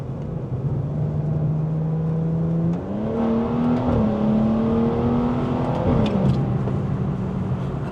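A car powered by a BMW B58 turbocharged straight-six engine revs and accelerates, its steady drone climbing through gear shifts, loud and close, alone without talk.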